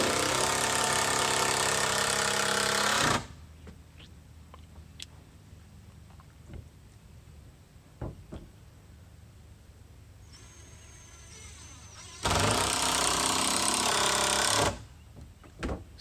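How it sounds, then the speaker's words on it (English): Screws driven in to attach a base, two loud bursts of power-driver whirring about three and two seconds long, separated by quiet stretches of faint handling clicks and knocks. "Step 3 is to screw on the base."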